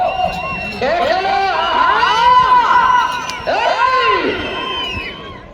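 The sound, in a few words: crowd shouting at a bull race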